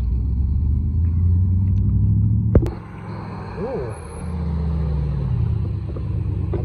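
A Porsche Cayenne Turbo passes amid supercars leaving a car festival, a steady low engine rumble with a brief sharp knock midway, the tone dipping then swelling back as it moves by at close range.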